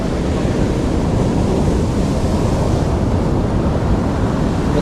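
Big ocean waves surging up the shore and reaching beached boats, a steady loud roar of surf with heavy wind noise on the microphone throughout, no voices.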